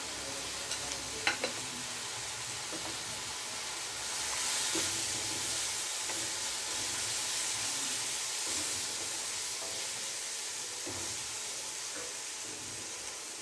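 Snake gourd thokku with turmeric sautés in a pan, Chennai style: a steady, close sizzle runs throughout, broken by soft scraping stirs and a few sharp clinks near the start.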